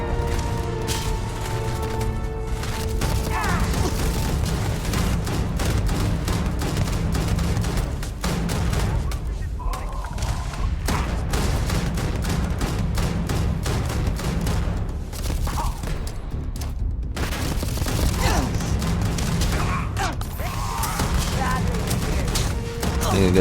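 Rapid bursts of gunfire and booms from a Starfield video game firefight, dense and continuous throughout, with brief lulls and a voice speaking over the shooting.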